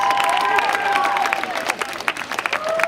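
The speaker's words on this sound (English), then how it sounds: "Please, round of applause" An audience at a comedy benefit show applauds and cheers after a crowd wave, clapping rising and falling in bursts while whistles and excited voices ring out over it.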